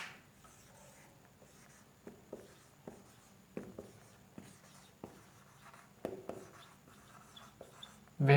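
Pen strokes writing a heading on paper, a series of soft scratchy taps and rubs at an irregular pace, close and quiet with no talking.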